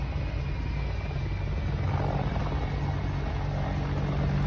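An aircraft engine runs steadily on a runway, a continuous loud drone with a strong low hum and rotor-like flutter, holding constant throughout with no voices over it.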